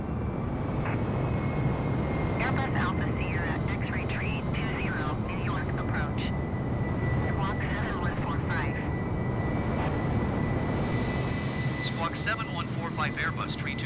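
A steady, loud Airbus A320 engine drone inside Flight Simulator 2020 fills the whole span without a break, while a voice speaks over it.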